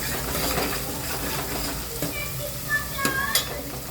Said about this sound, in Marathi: मी आता हा कांदा चांगला सोनेरी कलर यूज तोपर्यंत भाजून घेते